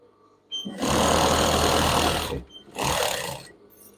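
A sewing machine stitches children's pajama pants in two bursts, a long steady whir of nearly two seconds, a brief pause, then a shorter run, close and loud.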